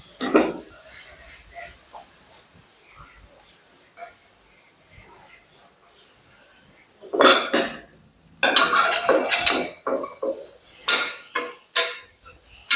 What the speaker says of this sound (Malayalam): നല്ലോണം സോട്ട് ചെയ്ത് കൊടുക്കുക